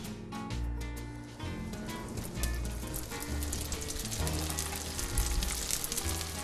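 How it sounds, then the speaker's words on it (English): Steady, loud sizzling of dumplings frying in hot oil, with crackles and pops throughout and no speech. "One by one we're frying all of them."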